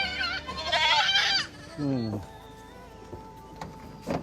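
A goat bleats loudly with a wavering, drawn-out cry, followed by a shorter second bleat, then quieter background noise.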